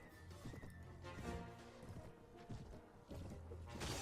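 Horse in the video game Phantasy Calradia galloping with rapid clip-clop hoofbeats and letting out a neigh amid battle noise, faint and mixed with other game sounds.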